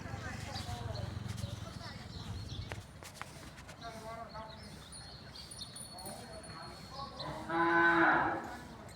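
Cattle at a cow shelter in Akwada, Bhavnagar, with one clear moo rising near the end over quiet background shuffling and hoof sounds, while a person talks earlier.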